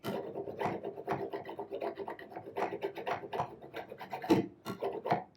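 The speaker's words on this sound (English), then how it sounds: "I'm basically just going to run this back and forth across the surface of the plate" A hand tool is drawn back and forth along the beveled edge of an intaglio printing plate, giving a steady close rasping scrape in repeated strokes with brief pauses.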